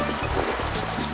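Rough ocean waves at the rocky Blue Hole sinkhole in Romblon, Philippines, a brief burst of churning surf and splashing water, close and fairly loud.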